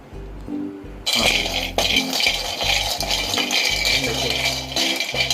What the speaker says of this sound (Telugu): ఇలా హై ఫ్లేమ్ మీద పెట్టుకొని మనం ఈ జీడిపప్పులు వేయించుకుంటూ ఒక పావు గంట వరకు వేయించుకుంటే